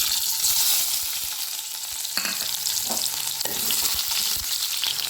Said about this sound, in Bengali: তেল গরম হয়ে গেছে, তো আমি এর মধ্যে পেঁয়াজ আর রসুনটা দিয়ে দিলাম।